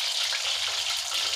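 Whole spices, including cumin, sizzle steadily in hot oil for a keema curry, a close, continuous crackling fry with no talk over it.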